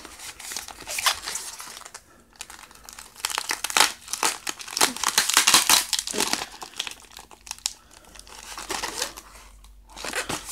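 Packing tape worked off a cardboard box holding a Hampton Bay uplight lamp, with bursts of crinkling, rustling and tearing in uneven spurts, close and moderately loud, with no speech.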